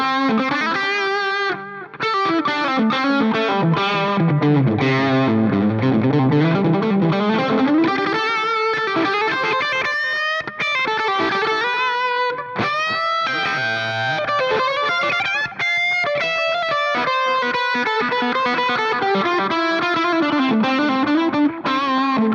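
An electric guitar with humbucker pickups plays through a Two Notes Genome rig with heavy distortion and chorus. Sustained chords and sweeping melodic runs ring continuously and loud, with no voices.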